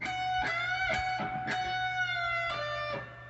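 A clean electric guitar phrase with sustained notes bending and dropping in pitch, picked attacks at an unhurried pace, fairly quiet.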